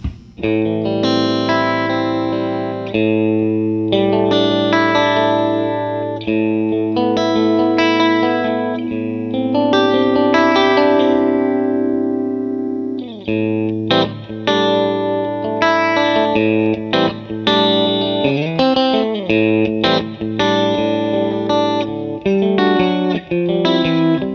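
Distorted electric guitar chords through a Mesa Boogie amp ring out with a washy spring reverb tail, played steadily and loud with a few short pauses between phrases.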